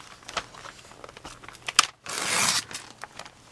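Magazine paper is cut, with small rustles and crinkles followed by one louder rasping slice of about a second, close and alone.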